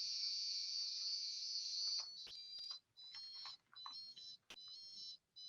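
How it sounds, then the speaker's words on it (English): A high electronic tone sounds steadily, then breaks into a series of short, faint beeps at an uneven pace, with nothing else heard. "I'm going to count out 10 beeps"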